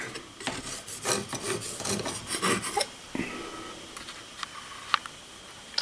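A palette knife scrapes leftover acrylic paint across a painted canvas, giving a series of short, close rasping strokes that give way to quieter scattered taps and scrapes, with no talk.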